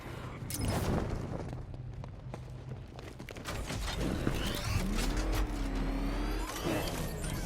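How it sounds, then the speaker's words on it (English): The Batmobile from Batman: Arkham Knight drives through underground tunnels with a loud, steady engine roar, tire noise and intermittent impacts and scrapes, ending in a rising whine. "I see you're back in the car, Master Bruce"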